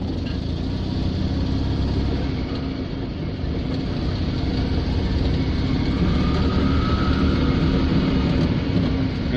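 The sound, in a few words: Invacar engine as the car sets off for home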